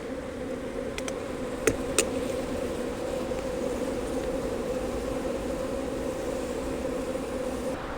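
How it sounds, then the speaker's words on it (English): Honey bees fly in a constant droning swarm around a hive during robbing. The buzz is dense and steady, with two faint clicks early on and no talking. "Bees flying all around here. That's a robbing situation"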